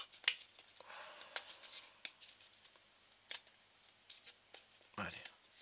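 Playing cards from The 7th Continent board game being handled and shuffled, with soft brushing slides and a few quick snaps spread across a quiet room, faint and close.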